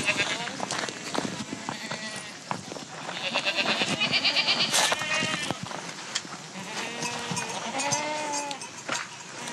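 Goats bleating at close range on a farm, several high wavering calls repeating over nine seconds while people talk and exclaim over them.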